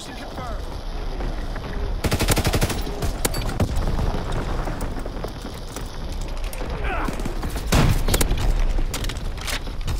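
Division artillery fires in Call of Duty WWII, heavy booms and rattling machine-gun bursts stacking into a dense battle roar, with a voice talking over the gunfire.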